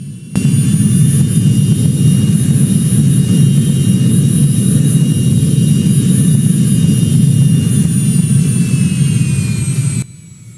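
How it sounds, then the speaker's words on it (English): Steady, loud jet engine roar of a Cessna Citation II business jet in a video game, heard from outside, with a deep low rumble and thin high whine, running continuously for about ten seconds before cutting off. "And those are your engine sounds from the outside."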